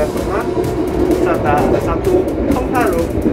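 Steady low rumble inside a moving Argo Bromo Anggrek passenger train's restaurant car, with faint rhythmic clatter from the rails; someone talks over it.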